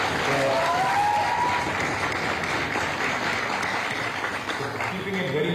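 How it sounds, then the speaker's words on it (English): Audience applause at a youth parliament program at St. Ann's Women's College, loud and dense clapping that continues steadily, with voices mixed in underneath. "so I think we should give a big round of applause to all of them."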